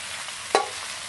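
Chinese kale being stir-fried with chili, garlic and oyster sauce in a hot pan: a single quick spatula scrape cuts through a steady low sizzle, close and brief, with no voices.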